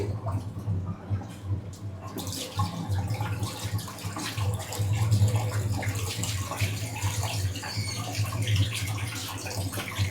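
Water collected from an air conditioner, about 15 litres in a can, is tipped out and pours steadily in a continuous splashing gush, close and fairly loud, with no talking.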